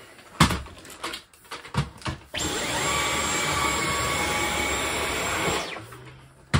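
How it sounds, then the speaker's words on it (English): A Dyson V11 Absolute cordless vacuum cleaning the underside of a rug starts after a few knocks and handling thumps, then runs as a loud, steady whirring roar for about three seconds before cutting off. "I'm actually also going to hoover the underside of the rug"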